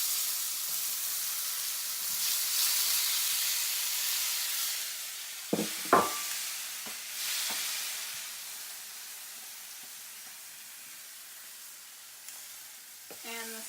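Tomatoes tipped into a hot pan on high heat, giving a steady broad sizzle throughout with a couple of sharp clanks of utensil against pan midway and soft stirring scrapes.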